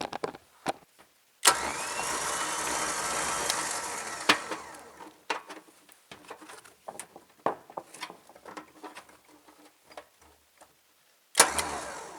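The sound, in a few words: Harbor Freight 12k winch spooling cable on trailer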